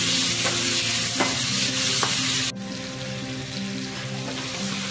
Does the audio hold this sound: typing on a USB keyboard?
no